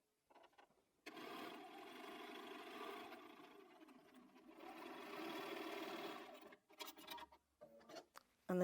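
Sewing machine running steadily for several seconds while stitching a quilt block seam for a friendship star block, then stopping with a few short irregular bursts of clicks and handling noise.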